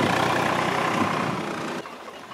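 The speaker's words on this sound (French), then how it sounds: "je vais laisser passer le tracteur" A heavy engine rumbles loudly nearby, holding steady, then drops away suddenly near the end, leaving a quieter low hum.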